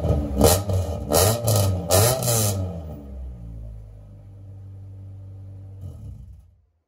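A Honda Civic engine revs hard through a large aftermarket exhaust in several sharp bursts, then drops to a low steady rumble before cutting off.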